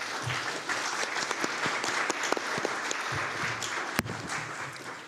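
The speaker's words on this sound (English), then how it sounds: "let me invite everyone to give a big round of applause to all of the authors" An audience applauds the authors of the Asia-Pacific Regional Security Assessment 2024 at a conference event, a steady dense clatter of many hands clapping throughout, with a few sharper individual claps standing out.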